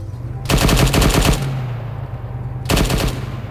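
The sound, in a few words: gunfire in the ArmA 3 video game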